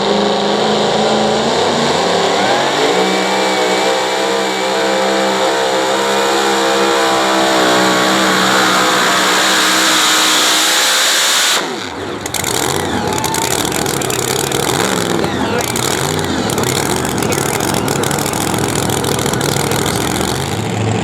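A two-wheel drive pulling truck at a tractor pull roars loudly and steadily at close range, its engine note climbing in pitch, then breaking into a rougher, harsher full-throttle howl partway through, with no talk over it.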